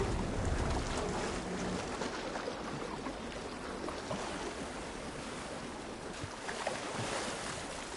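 A character swims through water in the game Horizon Forbidden West, giving a steady, continuous wash of splashing and surging water that stays fairly even throughout, with no talking.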